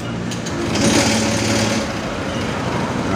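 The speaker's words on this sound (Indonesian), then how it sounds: "kita bunyikan motornya" A Honda motorcycle engine starting and then idling, a steady buzzing, rattling drone that swells briefly near the start and then settles into an even running hum, close and loud throughout.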